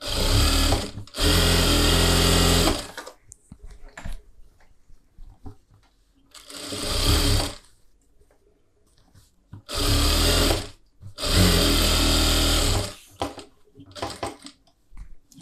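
A sewing machine stitches a blouse collar in several loud bursts of whirring running, each a second or two long, separated by quiet pauses for repositioning the fabric.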